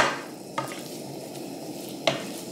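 Salmon goes into a hot pan of setting egg on a camp stove outdoors, giving a steady soft sizzle broken by two sharp scraping stirs or clinks, close and alone with no talking.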